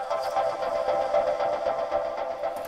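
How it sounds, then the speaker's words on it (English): A heavily processed vocal sample from the Battery instrument, with automated panning sweeping it around, plays alone as a dense, pulsing tone with rhythmic swells and a bright, buzzy edge. "The very first was this vocal kind of sample that I found within Battery."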